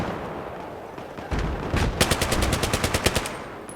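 Rapid machine gun fire in the video game Battlefield 3 breaks out after a low rumble, a steady, evenly spaced stream of loud shots lasting a couple of seconds.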